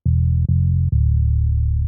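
Deep bass one-shot playing a short bass line of three sustained low notes, each attack clearly struck, the last note ringing out alone, loud and close.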